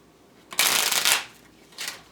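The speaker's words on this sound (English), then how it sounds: "One more shuffle, Cancer." Cards riffled briskly in one long shuffle, close and crisp, followed by a shorter second riffle after a brief pause.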